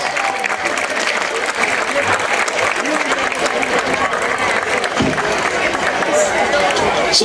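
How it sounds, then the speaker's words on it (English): Sustained clapping from a crowd for a quartet, loud and steady, with scattered voices and murmurs underneath. "Round of applause for the Lowell Quartet."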